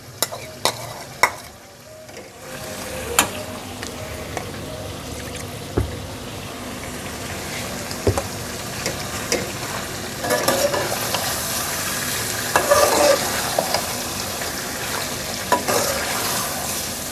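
Ground onion, tomato and yogurt masala paste sizzles and fries in a pot for chicken and potato salan, with stirring scrapes and clanks, the frying growing louder and more vigorous toward the end, no talking.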